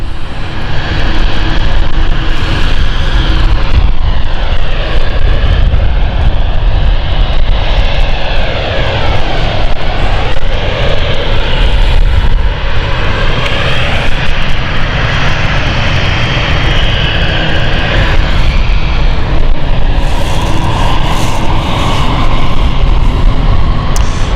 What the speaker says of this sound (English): Okay, Berlin flight is finally taxiing off.